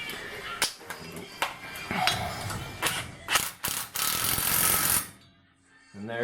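A hand ratchet clicks in quick, uneven bursts, tightening a nut on an Eton 41.5cc engine up close, with brief pauses between strokes before the ratcheting stops.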